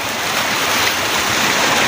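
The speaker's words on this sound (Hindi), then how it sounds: "तो गाइस पानी देखो किस तरह आ रहा है" Water rushes in a steady, loud, broadband flow, close by and unbroken, with no voices.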